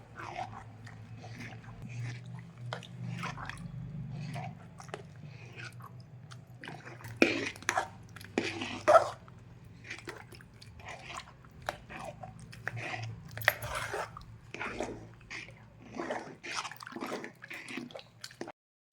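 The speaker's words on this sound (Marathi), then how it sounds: "मी हे स्वच्छ असं लोणी धुवून घेणार आहे" Water splashing and dripping as freshly made butter is squeezed and rinsed by hand, a steady series of wet squelches and drips with low background hum.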